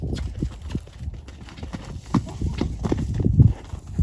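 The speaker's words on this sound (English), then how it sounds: "So I'm going to ask him to canter now." A horse cantering during liberty training, hooves clip-clopping in a steady rapid rhythm on the ground, moderately close, with low thuds and a brief louder burst near the end.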